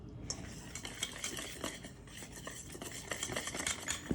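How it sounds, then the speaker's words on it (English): A whisk scrapes and stirs dry flour, baking powder and salt in a medium bowl, with steady close clinking and brushing strokes against the bowl that continue without a break and no talk. "the baking powder, and salt together in a medium bowl, and we're gonna whisk that up until it's nice and uniform."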